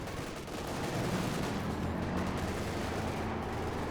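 Dense gunfire and artillery booms from a Company of Heroes 2 battle, a continuous roaring wash of shots and explosions filling the whole stretch at a steady, fairly loud level.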